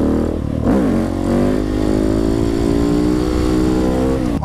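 A KTM 690 SMCR supermoto motorcycle, modified, accelerates hard with a loud, close single-cylinder engine note that rises steadily in pitch through a gear, alone without talk.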